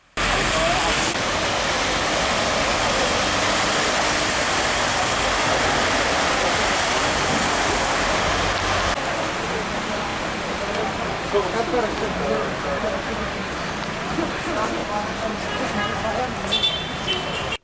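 Heavy rain flooding the city streets of İskenderun: a steady, dense rushing and pouring roar of water that fills the whole scene, slightly easing after the midpoint.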